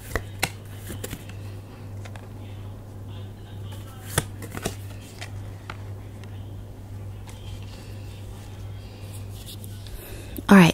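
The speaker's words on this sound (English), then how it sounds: "Now let me pull some extra cards on this." Tarot cards being shuffled and pulled, scattered soft snaps and riffling flicks at irregular intervals over a steady low hum, close and quiet, ending with a louder handling sound.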